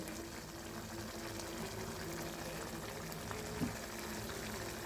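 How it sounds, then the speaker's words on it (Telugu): Egg curry simmers at a steady boil in a pan, a faint, continuous bubbling and churning close by with one brief louder pop near the end and no talk over it. "ఇలా బాగా ఉడుకుతుంది"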